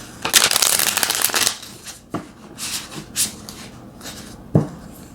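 Tarot cards shuffled by hand: a dense riffling burst at first, then a few separate soft slaps and shuffles, close and quiet, with no talking.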